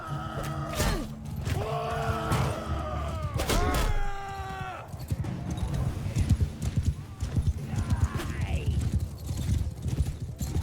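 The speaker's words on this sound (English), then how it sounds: "Punch through with our cavalry here, get them to charge." Cavalry horse hooves clatter in a galloping charge with a sharp whinny, under a dense battle din of clashing and shouting in Mount and Blade II: Bannerlord.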